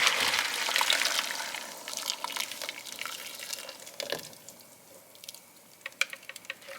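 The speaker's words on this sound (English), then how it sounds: "we're going to start pouring this over the chicken" Salsa being poured over chicken for a chicken-and-potatoes dish, a wet gushing, dripping pour with small splashes that trails off into scattered drips, close by with no talking.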